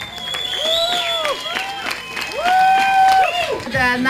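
An audience applauds and cheers at an award ceremony for a cabriolet car event in Latvia, with a steady wash of clapping under a loud announcer's voice calling over it.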